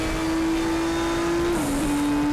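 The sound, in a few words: race car engine in video game RaceRoom Racing Experience at Sonoma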